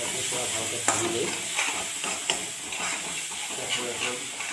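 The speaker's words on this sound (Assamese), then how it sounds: "মছলাখিনি পূৰা ভালকৈ ভাজি লৈ" Spices, including chicken masala, fry in a pan for a potato and peas curry, giving a steady hissing sizzle broken by occasional scrapes and taps of stirring.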